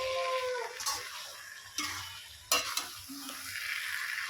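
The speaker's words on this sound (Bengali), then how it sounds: "এবারে হালকা হাতে খুব সুন্দর করে চিংড়ি মাছের সঙ্গে কচুর ফুলগুলো নাড়িয়ে নেব।" Taro flowers and prawns are stirred together in a frying pan, with a steady sizzle and several sharp scraping knocks of a spatula against the pan. No one talks.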